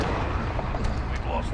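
A Predator missile strike in Call of Duty: Modern Warfare gives a dense, rumbling blast wash that fills the short stretch, with a voice talking over it.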